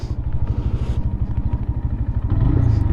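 A brand new Lifan KPM 200 motorcycle on its first break-in ride, the single-cylinder engine thumping in a steady rapid pulse, loud and close, with rising revs toward the end and no talking.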